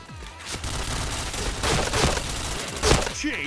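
Rapid bursts of gunfire in a shooter video game, loud and close, with dense overlapping shots and a short voice near the end.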